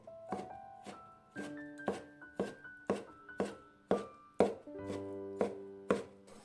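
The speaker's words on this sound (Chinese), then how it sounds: "最后切成小丁。" A knife dicing tomato into small cubes on a cutting board, a steady series of about a dozen crisp chopping knocks close by, evenly spaced, with no talk.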